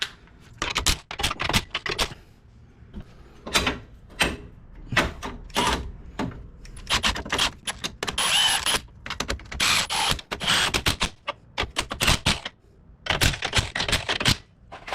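Ratchet clicking in short bursts while axle bolts are torqued evenly on a Ford Ranger getting an 8.8 rear axle swap, close and fairly loud with irregular pauses between strokes.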